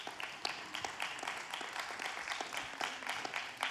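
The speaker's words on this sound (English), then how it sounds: "there's a big clap here for you" Scattered clapping for someone joining a video call: a small group claps unevenly, with distinct individual claps heard faintly and a little distantly.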